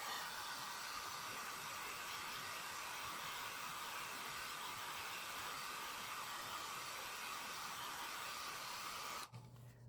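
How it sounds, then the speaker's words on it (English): A blow dryer runs steadily at close range, a loud continuous rushing hiss as it dries the bottom row of a painting, cutting off abruptly near the end. "I'm going to hit this one more time for this bottom row with my blow dry."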